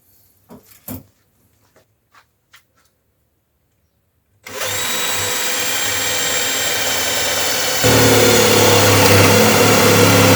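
After a few soft taps and silence, a cordless drill with a large auger bit starts abruptly and runs loudly and continuously, its pitch shifting as it bites into the wood.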